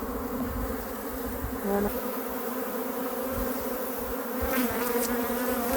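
Honeybees buzzing densely around a hive frame holding honey and brood, a continuous close drone with shifting tones as individual bees pass near; a voice speaks briefly.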